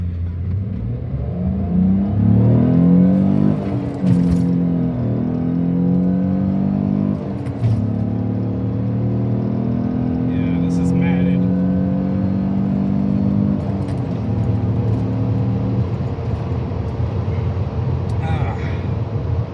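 A 1998.5 Ford Contour SVT is driven hard from inside, its engine climbing in pitch through several gears with quick shifts, then settling into a steady cruising drone while people talk over it.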